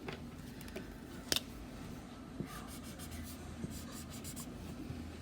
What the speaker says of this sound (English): I'll write down the common factor that binomial has in common.